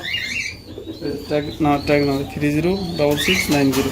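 A racing pigeon coos close by in a run of repeated throaty, rolling calls, each rising and falling, with a few pauses between them.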